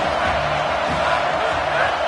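Loud, dense stadium crowd roar in a college football video game, a steady wall of cheering and noise with no clear breaks.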